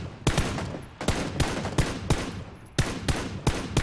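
Rapid automatic gunfire in PUBG (Battlegrounds), loud sharp bursts of several shots each separated by brief pauses, sounding fairly close with no talk over it.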